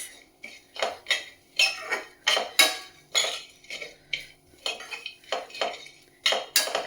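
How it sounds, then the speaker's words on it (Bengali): Puffed rice mixed with chanachur, coriander leaves and peanuts, with no oil, is stirred in a bowl. A spoon scrapes and clinks against the bowl in a steady run of about a dozen crisp, rustling strokes, close by and with no talking. "একটু দিয়ে একটু জাস্ট নেড়ে নিচ্ছি।"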